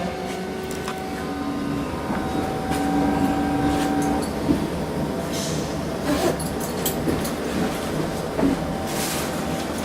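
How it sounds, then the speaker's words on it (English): A train pulls into Manchester Airport station with a steady rumbling hum, a faint tonal whine and occasional light clicks and squeals as it slows, with no talk over it. "we're just pulling into Manchester Airport now, and it will obviously reverse here and head back out and round the south curve."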